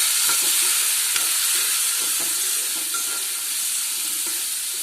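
Loud, continuous sizzling and hissing of turmeric, cumin powder and chilli frying in a hot pan, with occasional scraping stirs and taps, no voices.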